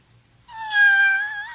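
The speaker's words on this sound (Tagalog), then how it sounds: "ka miyaw sa iring" A single drawn-out cat meow rises clearly after a brief quiet moment, close and fairly loud, a tonal wail that swells and then tapers off.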